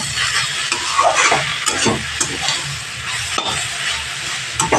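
Grated radish with fresh coriander leaves gets stirred in a frying pan, loud close scrapes and clatters of the spatula over an ongoing sizzle, no talking.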